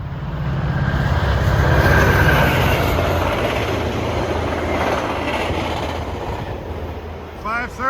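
A CN passenger train, train 23 for Vaudreuil on the Kingston Sub, roars past near and loud, a dense wash of wheel and rail noise that slowly eases off toward the end.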